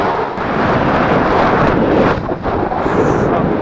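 Strong wind buffets the microphone at a cloudy paragliding launch, a loud continuous roaring rush with gusty swells throughout and no clear speech.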